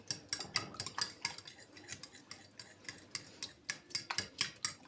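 Yogurt and a spoonful of salt whisked together in a bowl, a utensil tapping and scraping the sides in quick, steady near strokes with a light clatter, no talk.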